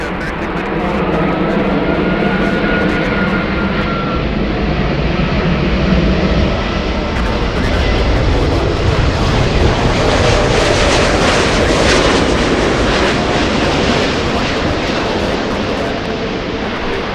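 Large airplane jet engines roar steadily at LAX, a loud continuous broadband rumble with no clear breaks, building slightly in intensity midway through.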